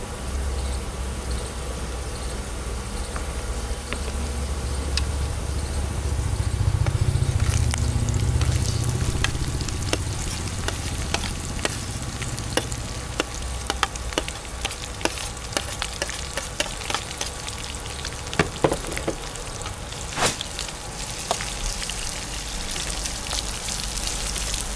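Onion frying in oil in a pan after garlic has browned, a dense continuous sizzle with scattered sharp pops and crackles, close and steady throughout.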